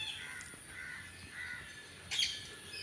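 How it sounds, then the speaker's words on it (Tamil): Crows caw among planted trees in a quiet garden setting, a few scattered calls at moderate distance with a sharper, louder call near the end. "பறவைகளோட ஒலி,"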